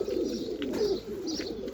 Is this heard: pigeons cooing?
yes